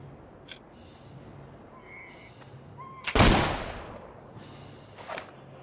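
Gunfire in the pirate video game Caribbean Legend: Age of Pirates, with a couple of faint shots and one loud, booming blast that trails off, over quiet ambient background.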